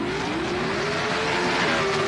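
Drag racing car at the 1977 NHRA Gatornationals, a steady loud engine drone with a rising tone running the whole moment, close and continuous with no talk.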